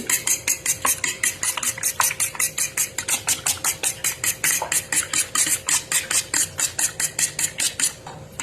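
A whisk or fork beats a mixture seasoned with salt and ground pepper, about thirty quick, even, close strokes that tap against the bowl in a steady rhythm with no talk.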